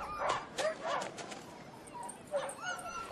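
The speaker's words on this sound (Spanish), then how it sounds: "Por no hablar de los perros." Hunting dogs bark, yip and whimper in short bursts at moderate distance, eager and restless, with gaps of quieter whining between the calls.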